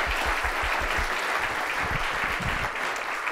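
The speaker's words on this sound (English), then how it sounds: "let's give a big round of applause to both Irina and Allison." An audience at a Wharton Scale School business event applauds steadily, a dense wash of many hands clapping at an even level throughout, with faint low thumps underneath.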